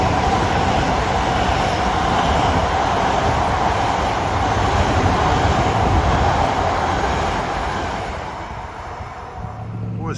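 An LIRR commuter train rolls into Westbury station on the triple-track line during the evening rush, a loud, steady rumble of wheels and motors that gradually eases as it slows, with brake squeal near the end.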